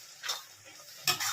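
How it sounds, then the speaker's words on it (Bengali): Spice powder being stirred into grated raw green mango for a no-oil pickle, with two soft scraping bursts of a spoon against a bowl, close and quiet, no talking. "দিয়ে আমি একটু ভালো করে আবার নাড়িয়ে দিচ্ছি।"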